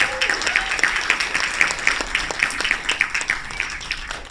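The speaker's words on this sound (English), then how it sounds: "Let's give them all a huge round of applause." Several people clap for filmmakers at a festival program launch, a thin, scattered applause with individual claps standing out in an uneven rhythm.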